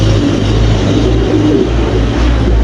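Afsan Gizel Mundiyar pigeons coo close by in soft, repeated low calls over a constant low background hum.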